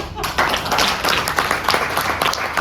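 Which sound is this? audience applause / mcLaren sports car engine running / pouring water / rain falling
audience applause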